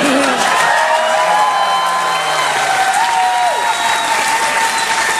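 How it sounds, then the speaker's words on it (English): A large audience claps loudly and continuously, a dense wash of applause with scattered whoops and cheers rising above it. "so save your applause for Paul."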